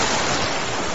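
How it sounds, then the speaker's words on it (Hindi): Sea waves at night on Dumas Beach, a brief, loud, continuous rush of surf with no voices. "समंदर की आवाज और तेज होती जा रही थी।"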